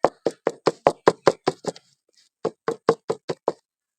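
A bowl of mango cake batter tapped firmly on a surface, nine quick even knocks, a short pause, then six more, loud and close with nothing else audible.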